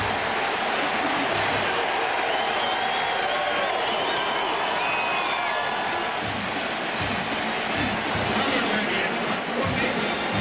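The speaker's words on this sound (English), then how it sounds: "this crowd now is getting really loud" Loud, dense roar of a college football stadium crowd during a night game between Tennessee and Georgia, a continuous wash of cheering and noise with an announcer talking over it.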